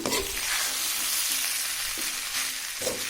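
Carrot and beans fried rice stirred in a hot pan, a loud close sizzle with brief scraping strokes of the spoon every second or so, no voices.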